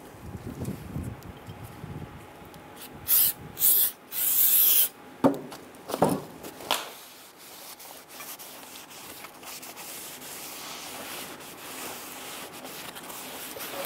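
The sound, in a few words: spraying solvent onto a Ford Explorer brake rotor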